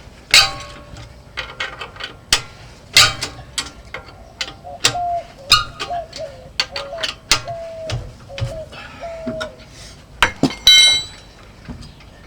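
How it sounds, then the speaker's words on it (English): Lug nuts being loosened and pulled off the rear wheel of a 2001 Volkswagen Jetta TDI, heard as a series of sharp metallic clinks and ratchet ticks with some squeaky turning, close and fairly loud. "so pulling off the lug nuts"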